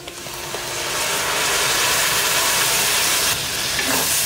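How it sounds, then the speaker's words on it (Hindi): Tomato paste made from two ground medium tomatoes is poured into spices frying in a pan for Punjabi street-style chole paneer. A loud, steady sizzling hiss swells after the first second and holds, easing slightly near the end. "अब इसमें मैं टमाटर का पेस्ट डालूंगी"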